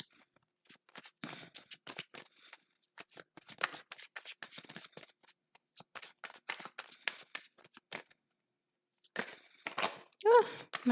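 A deck of tarot cards being shuffled by hand in quick riffling bursts with brief pauses, close and crisp, followed by a short spoken remark near the end.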